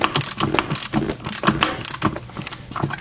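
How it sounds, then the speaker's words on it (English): Hand ratchet being cranked on an ESCO portable tire bead breaker, a rapid series of sharp metallic clicks in repeated bursts, loud and close, with no speech. "when that box is down, you can just hand ratchet that in"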